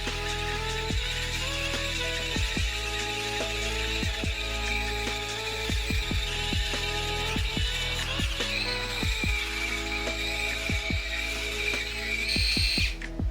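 A Sejoy Mocha S electric shaver running through untrimmed hair, a continuous close motor whine with repeated short buzzing strokes and rasps, no talking.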